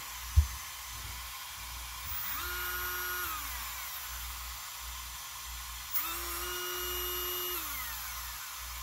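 A brushless motor on a ZTW Beast 300 RC truck ESC bench test spins up twice with a rising whine, holds speed briefly and winds down each time, after a sharp click at the start.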